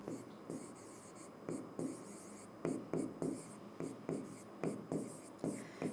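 Repeated scratchy strokes of writing on a board during a Hindi biology lecture on animal tissues, close and steady, with short pauses between bursts of marks.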